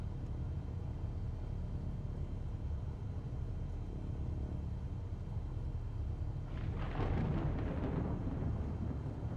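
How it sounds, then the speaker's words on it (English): Deep rolling thunder in Microsoft Flight Simulator rumbles under steady low engine drone, swelling into a louder crackling roll near the end. "How do you get rid of the thunder noise?"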